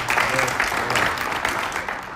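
Loud applause from a church or worship gathering audience, steady dense clapping filling the space for a couple of seconds with a faint hint of voices beneath.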